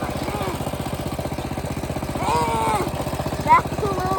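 A Colmen mini bike with a torquey single-cylinder engine, roughly 95cc, putters steadily at close range while ridden, its rapid regular firing pulses swelling briefly in revs midway, with a voice talking over it.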